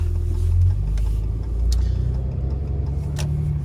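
A 2014 Ram 3500 pickup with 584k miles and an ailing engine, running with a deep steady low rumble, heard close and loud from inside the cab.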